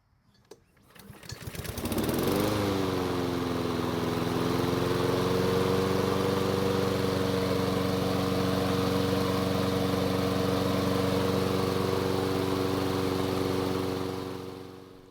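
A Honda gasoline lawn mower engine starts with a brief rattle, then settles into a loud, steady, unchanging drone that runs on for over twelve seconds before easing slightly at the end.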